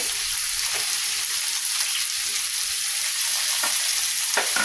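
Onion, ginger, garlic and curry leaves fry in an oil-filled pan for a roast, giving a steady, close sizzle with a few sharper crackles and pops near the end, no voices.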